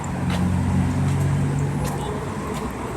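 Road traffic in front of a shop, a dense steady rumble of engines and passing vehicles, close and fairly loud, with faint distant voices.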